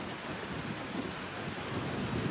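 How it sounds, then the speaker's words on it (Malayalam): Dense, steady roar of heavy rain pouring down in Medina, constant and enveloping with no voices. "എന്താ മഴ, അടിപൊളി മഴന്ന്, നല്ല ടോപ്പ് മഴ"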